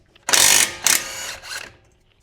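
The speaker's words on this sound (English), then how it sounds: "Going to be using an impact and a 7/8 wrench for backup just in case." An impact wrench removes the lower support nuts on a 2003–2008 Toyota Corolla, Matrix or Pontiac Vibe coil-over during replacement, giving two loud close rattling bursts followed by a fainter third, then silence.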